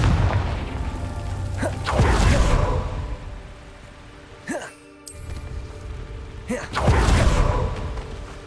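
Confringo blasting spell detonating in Hogwarts Legacy, a few loud booming bursts with whooshing tails and rumbling impacts spread across the scene, layered over game ambience.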